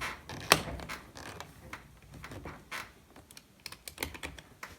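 A snap-in door panel with metal clips on a 1989 Ford Probe GT is handled close by, giving a sharp plastic snap early on followed by scattered creaks and clicks.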